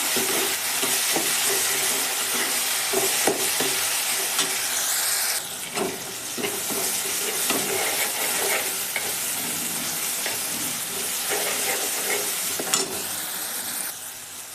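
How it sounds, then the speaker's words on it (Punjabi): Tomatoes and onions sizzle and fry in a kadai for dal, with a spoon stirring and scraping through the pan in steady, close strokes over a continuous hiss, no voices. "ਟਮਾਟਰਾਂ ਨੂੰ ਚੰਗੀ ਤਰ੍ਹਾਂ ਦੇ ਨਾਲ ਸੌਫਟ ਹੋਣ ਤੱਕ ਪਕਾਵਾਂਗੇ"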